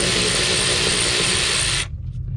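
A socket wrench with an extension ratcheting on a bolt on an 82-92 Camaro brake booster, a loud, close, rapid continuous ratchet buzz that stops abruptly near the end, leaving quieter shop noise.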